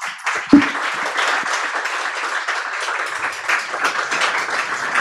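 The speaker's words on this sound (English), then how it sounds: "a round of applause, please, for our speakers." An audience applauds speakers at a live-streamed public policy event, warm continuous clapping that sets in after a single sharp clap and holds steady throughout.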